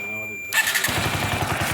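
A high electronic warning tone cuts off as a Pulsar NS 150/160 motorcycle engine cranks and fires, settling into a rough, rapid idle chugging close by.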